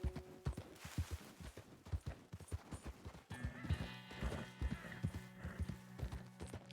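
Horse hooves clip-clop steadily in the video game Red Dead Redemption 2, close and rhythmic. A whinny is mixed in, along with faint game ambience and music tones.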